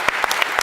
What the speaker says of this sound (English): So big round of applause for our fantastic panel.